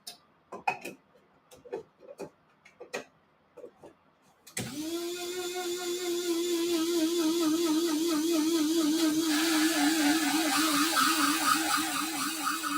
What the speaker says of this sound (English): A little coffee grinder.